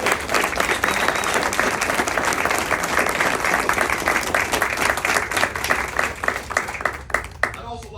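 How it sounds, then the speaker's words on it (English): Sustained applause from a crowd honoring graduating Security Forces officers at a basic officer course graduation ceremony, dense steady clapping that carries on throughout and thins slightly near the end. "How about we give these outstanding graduates and your defenders a huge round of applause?"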